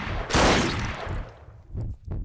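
Gunfire in a horror first-person shooter with retro DOOM-style graphics: one loud close shot with a long decaying tail, followed by two or three quicker, fainter reports near the end.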